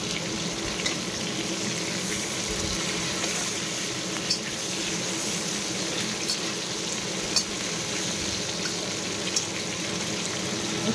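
Tomatoes frying in hot oil while cooking a prawn curry, a steady close sizzle that runs unbroken throughout, with a few light taps and clicks and no talking.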